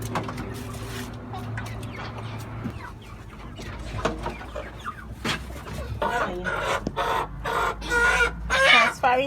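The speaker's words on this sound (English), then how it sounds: "Transferring the chicken to the place." Chickens cluck and squawk repeatedly in an irregular, close flurry as they are moved to a freshly cleaned cage, with a voice speaking at times underneath.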